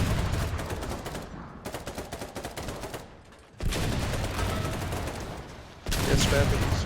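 Bursts of rapid gunfire from several weapons crackle loudly in dense volleys during a fortress siege, broken by two short pauses before the shooting surges back.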